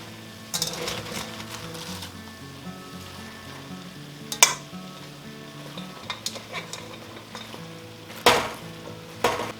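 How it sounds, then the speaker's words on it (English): Cabbage sizzles in a skillet with about three cloves of minced garlic, making a steady soft frying hiss. Louder clattering bursts break in now and then as it is stirred. "I'm going to add in my cabbage."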